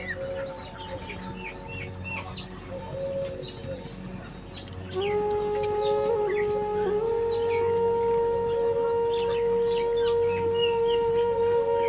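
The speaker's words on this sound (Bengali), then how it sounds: "ঘুঘু পাখি ডাকে।" A dove calls repeatedly in rural Bangladesh beside a field of mustard in flower. The soft, steady coos sit among other bird chirps, and a sustained tone comes in partway through.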